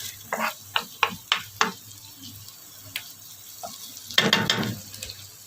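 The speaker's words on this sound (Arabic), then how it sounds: "هنقلب فيها شويه." Pasta being stirred in a frying pan, several quick scraping strokes in a row followed by a louder burst of stirring and sizzle, close and fairly quiet with no speech.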